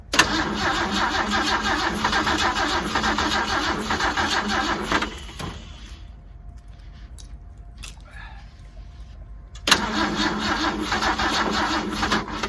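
A car engine with the choke on cranks and labors to start on a weak battery, a loud steady churning that runs for about five seconds, drops away into near silence, then resumes just as loudly.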